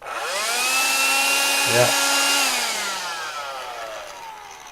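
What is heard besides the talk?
Karcher window vac motor running after battery replacement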